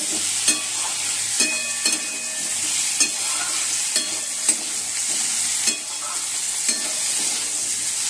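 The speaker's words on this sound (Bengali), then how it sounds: "আর এদিকে উচ্ছে ভাজা বসিয়ে দিয়েছি" Bitter gourd sizzles steadily in a hot pan while a spatula scrapes and stirs in regular knocks.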